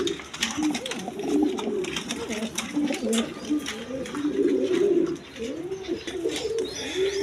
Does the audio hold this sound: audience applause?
no